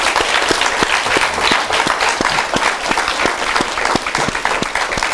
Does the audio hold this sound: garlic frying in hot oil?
no